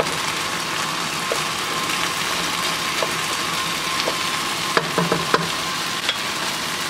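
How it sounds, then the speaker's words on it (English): Chopped onions sizzle steadily in a hot pan for a chicken chilli, with a spoon scraping and knocking through a few soft clacks near the end; continuous, close, with no voices. "Now I'll add in my onions. Stir it around."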